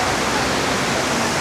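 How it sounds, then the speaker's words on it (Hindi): Tirathgarh waterfall, swollen after days of heavy rain, gives a loud, unbroken roar of rushing water that holds steady from start to finish with no talking. "वाटरफॉल की आवाज़ एकदम साफ सुनाई दे रही है।"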